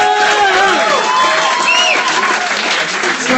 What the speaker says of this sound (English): Ladies and gentlemen, clap your hands.